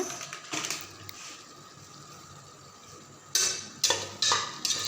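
Chili powder and biryani masala being stirred into a pan for a Kongu-style rice and lentil dish: a low steady hiss, then a few sharp scraping strokes of a spoon against the metal near the end, close and without speech.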